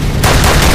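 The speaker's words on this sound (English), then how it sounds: "Whoa, he's shooting at us." Gunfire in the video game Nuclear Dawn, a sudden loud burst of rapid shots that cuts in after a brief lull and keeps firing to the end.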